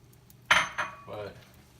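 A utensil stirring egg drop soup in a pot, with a sharp metallic clink followed by a couple of softer scraping knocks against the pot, close and distinct.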